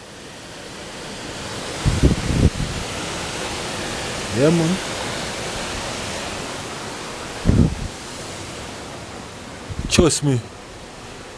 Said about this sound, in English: You can actually look against the waterfall again.